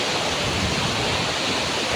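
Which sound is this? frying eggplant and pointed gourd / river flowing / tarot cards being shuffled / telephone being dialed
river flowing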